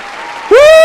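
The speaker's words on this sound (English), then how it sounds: "Yeah, applause." Applause fills the opening half second as a steady wash at moderate level, then a loud voice cuts in over it, rising into a sustained shout that dominates the rest.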